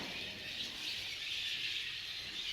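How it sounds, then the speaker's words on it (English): A dense chorus of many birds calling at Carlsbad Caverns, forming a continuous high-pitched squealing chatter that stays steady and moderately loud, with no voices. "There are a ton of birds in here"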